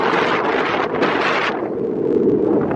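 Strong wind roars steadily across the microphone while paragliding high over Medellín, a loud, broad rushing buffet that stays constant throughout with no pauses.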